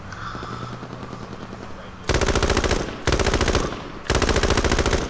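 Automatic gunfire from a light machine gun in the video game H1Z1 on PS4, heard as three loud, close rapid bursts after a quieter stretch with voices talking.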